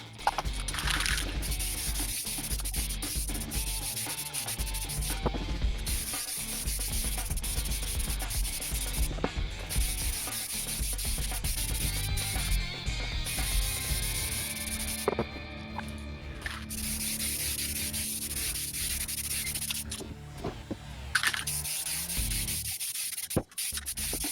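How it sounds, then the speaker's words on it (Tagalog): Samurai candy black aerosol spray paint hisses in long bursts over a decorative chrome fake-carbon finish, with a few short pauses between passes, steady and close, no voices. "So bugahan na natin to ng candy black."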